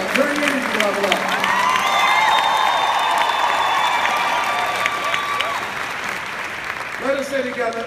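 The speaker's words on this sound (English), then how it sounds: "Give yourselves a round of applause for taking responsibility for your life" A convention audience bursts into loud applause and cheering, dense clapping with whoops and sustained shouts rising over the crowd, then tapering as the noise settles near the end.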